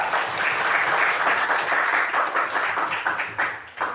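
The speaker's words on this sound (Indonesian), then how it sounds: "Tepuk tangan buat Tiara." Applause from a classroom of students, a dense burst of clapping that fills the room and then thins into scattered, uneven claps before fading out.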